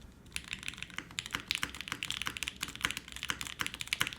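Fast, steady typing on a full-size custom mechanical keyboard with no desk pad underneath, a dense stream of crisp clacking keystrokes heard close and alone.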